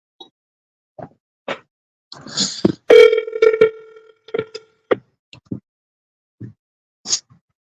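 A telephone being dialed to return calls: a run of short, separate electronic beeps with a longer sustained tone in the middle, close and clear against silence.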